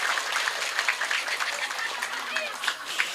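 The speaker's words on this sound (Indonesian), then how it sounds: "tepuk tangan dulu nggak apa-apa" An audience at an Islamic women's religious gathering claps steadily throughout, with a voice talking over the applause.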